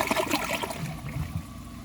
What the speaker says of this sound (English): I'm gonna give it another flush and see if it can take that